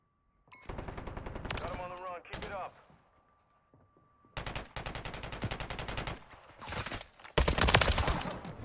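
A gun fires in an online first-person shooter free-for-all match as rapid automatic bursts, a long stream of close, loud shots broken by pauses, with other game sounds between them.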